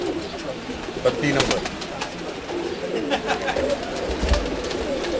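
Pakistani pigeons coo in low, repeated bursts, close by, with some wing flutters and someone speaking briefly over them.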